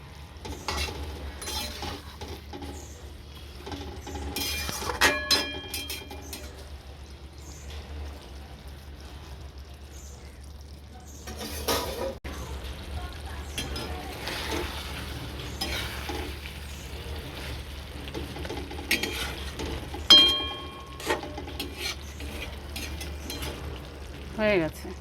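Okra masala curry is stirred and mixed in a pan, quiet intermittent sizzling with utensil scrapes and clinks against the cookware, a faint voice now and then.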